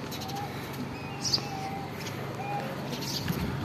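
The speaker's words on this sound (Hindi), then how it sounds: "हमारी डव बोल रही है, बहुत प्यारी लग रही है" A pet dove coos softly in a backyard coop with hens nearby, the low cooing faint and steady beneath general outdoor background noise.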